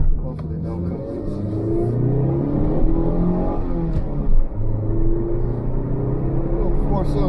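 A third-generation Mitsubishi Eclipse GS with a four-cylinder engine idles and revs in a close, loud, steady rumble, with someone talking over it.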